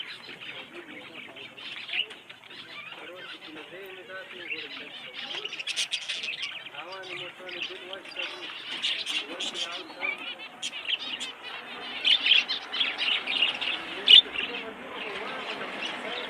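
Pigeons and small caged birds in a pigeon shop, with steady chirping and tweeting throughout, some cooing and wing flaps, at moderate level.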